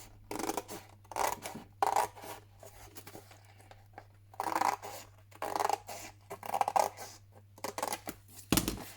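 Scissors cut paper pieces for a scrapbook cover, making repeated scratchy cutting strokes in irregular bursts with short quiet pauses and a low hum underneath.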